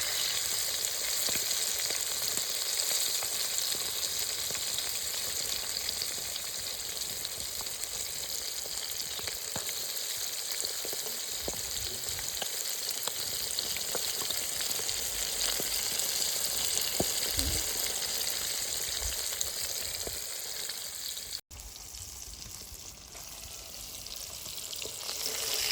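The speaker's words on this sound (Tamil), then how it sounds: "அவ்வளோதான், 5 காடையும் வறுத்து முடிச்சாச்சு." Five quail fry in a pan with oil, giving a steady, dense sizzle that runs continuously and close with no talk, easing slightly near the end.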